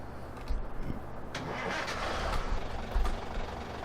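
A truck engine starts up in the video game Farming Simulator 15, cranking with a couple of low thumps before settling into a steady mid-pitched idle rumble, heard alone without talk.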